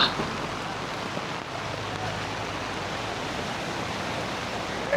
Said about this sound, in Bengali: প্রচুর পরিমাণ বৃষ্টি, যেই পরিমাণ বৃষ্টি মনে হয় না আজকে বের হতে পারবো